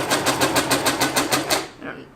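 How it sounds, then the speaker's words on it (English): Sewing machine stitching through layers of fleece and T-shirt material, a rapid, even mechanical chatter of about a dozen pulses that stops abruptly, with a voice speaking over it. "Now I'm about to sew through the first layer of the fleece and the shirt material."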